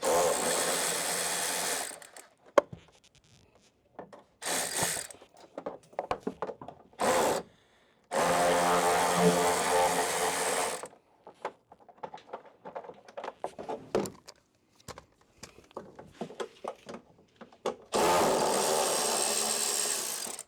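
Power-tool bursts removing the inner fender bolts from the rear fenders of a Jeep Gladiator, loud buzzing runs of a few seconds each with quieter clinks and handling noises between them, no talk.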